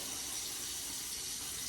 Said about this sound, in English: So I'm going to do that by turning on the water